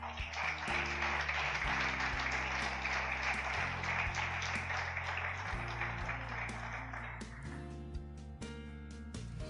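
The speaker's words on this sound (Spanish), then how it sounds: "Denle un aplauso al Rey" A church congregation applauds during a sermon, a steady hiss of many hands running for several seconds under sustained music before fading out.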